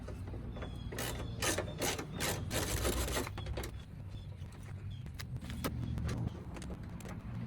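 A ratchet loosening headlight bolts on a 1992–1998 Chevy Suburban K1500, with rapid close clicking bursts coming in uneven runs and short pauses between them.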